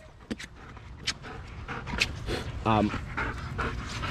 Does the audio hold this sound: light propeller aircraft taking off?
no